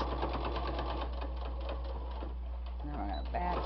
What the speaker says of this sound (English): It gets hard to sew over the seams, like I said, because there's so much you're folding and got quite a few layers.